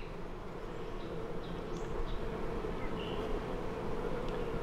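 Honeybees crowd around a mated queen inside a hive, their steady dense buzzing filling the whole stretch, close and continuous with no voices.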